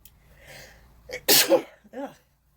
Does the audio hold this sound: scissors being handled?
no